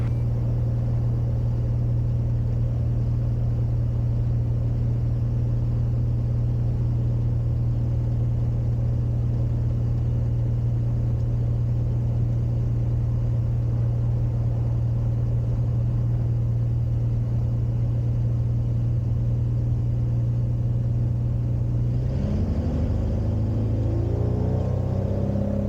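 A Cirrus light airplane's piston engine at takeoff power, departing runway 25 at Iowa City, drones as a loud, steady, close-up hum that shifts and roughens in the final few seconds.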